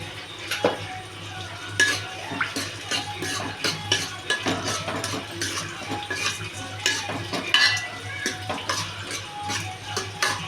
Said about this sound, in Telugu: బాగా కలుపుతాను.